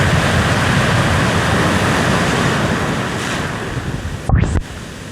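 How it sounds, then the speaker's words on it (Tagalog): Strong ocean waves break on a beach in a loud, continuous roar of surf, with wind rumbling across the microphone and a brief gust near the end. "Ang lakas ng alon! Ang laki ng alon!"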